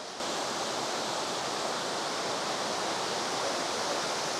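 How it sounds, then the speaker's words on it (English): A waterfall on the Cabot Trail in Nova Scotia rushes and splashes beside a river, a steady, dense, broadband roar heard close up and uninterrupted. "This has got to be one of the prettiest waterfalls in all the province of Nova Scotia."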